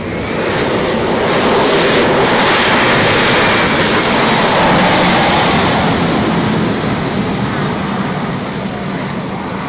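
Loud, steady roar of a jet aircraft at a private airfield in the Florida Keys, a broadband wash with a faint high whine that holds for several seconds, close and continuous with no talk.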